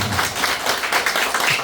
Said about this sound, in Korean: 이호승 대표님께 다시 한번 뜨거운 박수 부탁드리겠습니다